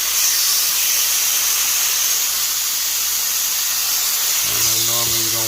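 Loud, steady sizzle and hiss of chicken searing on a hot grill, broad and continuous throughout, with a brief tonal clatter near the end.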